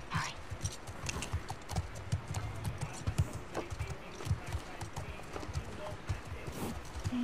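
Horse hooves clip-clopping in the video game The Last of Us Part II, a quiet irregular run of hoof thuds beneath game ambience and a person's voice talking.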